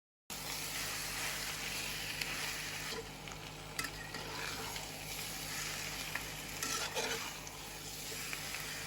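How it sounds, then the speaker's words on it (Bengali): Marinated duck meat sizzles steadily in hot oil with fried onions, stirred and turned in the pan with soft scraping; the frying stays loud and continuous throughout with no talking. "মাংসগুলো দিয়ে দেওয়ার পর এগুলোকে 1 মিনিটের মতো উল্টে পাল্টে নেব"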